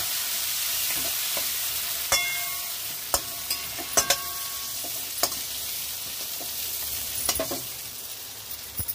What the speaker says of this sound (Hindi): फ्लेम हमारा हाई है तो जैसे कि आप देख सकते हैं चिड़ी हमारा फ्राई हो चुका है।